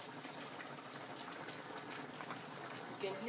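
A steady, soft bubbling hiss of liquid simmering in a skillet for Swiss venison steak, continuous and close, with no talking.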